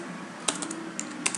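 Light keystrokes on a computer keyboard, a few quick close taps in an uneven cluster over a faint steady background hum.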